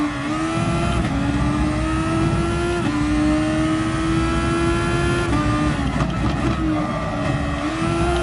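A Thor race car engine pulling hard in second gear in a racing game, a loud sustained roar climbing in pitch with brief dips as the throttle lifts, close and steady.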